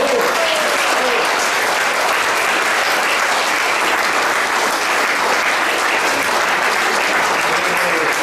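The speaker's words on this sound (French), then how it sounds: "je pense qu'on peut applaudir maintenant tout le personnel" An audience at a care home fête claps for the staff, a sustained loud wall of dense applause from a close crowd that holds steady throughout, with voices faintly mixed in.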